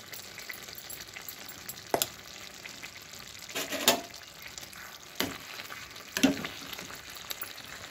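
Potato kurma simmering on the stove as garam masala is stirred in, with a soft sizzle and bubbling underneath and a few brief spoon scrapes and clatters against the pot.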